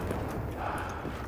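Horse hooves gallop in the video game Battlefield, a brief fast run of clip-clop beats, close and fairly steady, under game noise.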